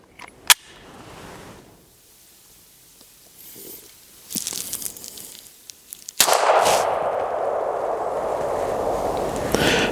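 A .22 handgun fires subsonic rounds without a suppressor at an outdoor range, several sharp, loud reports standing out from quiet gaps, with one crack followed by a lingering noisy wash.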